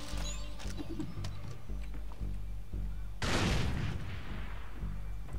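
Gunfire in the video game Far Cry 3 Blood Dragon: a low rumbling bed of game noise with scattered small hits, then one loud, broad blast of shots that keeps roaring afterward.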